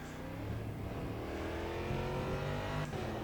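Race car engine in the rFactor 2 racing simulator, a steady loud drone of revving with dense harmonics held throughout, close and continuous with no talk.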